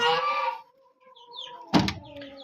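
A newly bought rooster, recently sick and now recovered, calls from a snowy henhouse with a loud opening burst, a sustained tonal call, then a sharp knock-like sound near the end; no talk.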